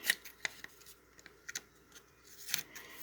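Scissors trimming the corners off paper sticky notes laid out to form a stencil letter for a spray-painted shirt, a few short, quiet snips spaced apart with soft rustling of paper between them.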